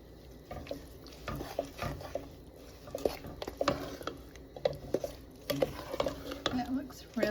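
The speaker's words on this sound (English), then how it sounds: "So just keep stirring until all of your sugar kind of disappears into the mixture." A spoon stirs sugar into serviceberry and strawberry jam in a pot, scraping and clinking against the metal with thick wet squelches, close and steady throughout, no talking.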